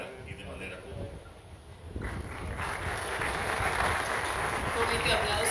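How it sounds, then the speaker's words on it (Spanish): An audience at a presidential summit with Dominican Republic president Luis Abinader and Costa Rica's Carlos Alvarado breaks into applause that swells and holds as a dense, steady roar after a brief quieter opening with a voice. "Con este aplauso agradecemos las palabras del excelentísimo presidente de la República Dominicana, señor Luis Abinader"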